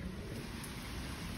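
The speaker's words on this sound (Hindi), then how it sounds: "सुबह से आ रही है बारिश, बारिश आ रही है" Heavy rain falls steadily at home on a morning that has left the power out. It makes a constant, even rushing hiss with no breaks and no voices.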